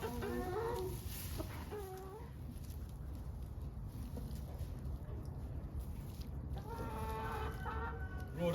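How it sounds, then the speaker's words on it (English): Rhode Island Red chickens and a cockerel on a farm cluck in short, scattered bursts at a moderate distance, with quieter stretches between calls and a low steady outdoor background. "Rhode Island Reds that we've got, I don't know if you can see in the background there, that this is one of the cockerels"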